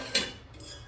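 A single brief metallic clink as a lid from a new kitchen pot set is handled, close and sharp, then quiet.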